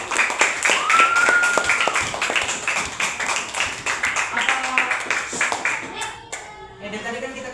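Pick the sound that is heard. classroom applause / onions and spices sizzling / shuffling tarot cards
classroom applause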